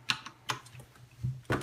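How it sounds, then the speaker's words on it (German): Keystrokes on a mechanical computer keyboard: a few separate, fairly sharp clicks spaced irregularly, with no voices, close and moderately quiet. "die Tastatur, die ich jetzt gerade selber benutze, ist mechanisch"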